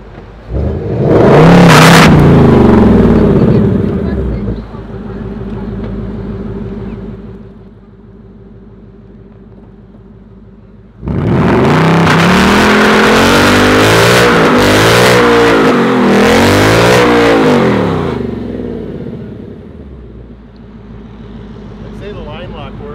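A 2024 Ford Mustang S650 Dark Horse revs hard on line lock during a tire-smoking burnout: a loud roaring surge that settles to an idle, then a long second bout of wavering, screaming revs before fading back down.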